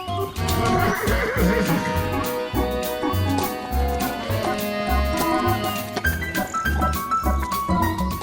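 A horse whinnies over a bed of music, the neighing rising and falling across the clip at moderate loudness.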